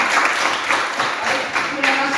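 Audience clapping after a series of classroom presentations, a steady mid-level patter of many hands lasting about two seconds, with a few louder swells and no speech over it.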